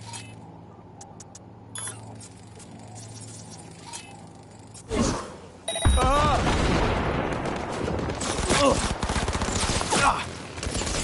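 Gunfire in the video game Cyberpunk 2077, starting with sparse clicks and taps, then a loud burst around the middle followed by sustained dense rapid shooting mixed with game sounds.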